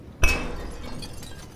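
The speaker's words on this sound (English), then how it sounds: "need to break the glass" Glass shatters in a dark school setting in a horror game: one sharp, loud crash at the start, then a tinkling tail of falling shards that fades over the next second.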